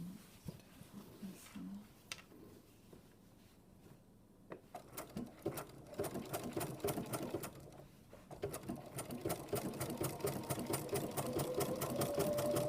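A sewing machine stitches a machine appliqué, starting with a few scattered stitches and then running a steady rapid patter that speeds up and grows louder as the fabric straightens.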